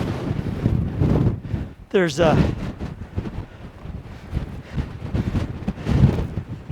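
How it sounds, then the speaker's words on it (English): Strong wind buffets the microphone on a desert mountain summit in Anza-Borrego Desert State Park, a rough, gusty rumble running beneath someone speaking throughout. "It's really windy, as you can imagine"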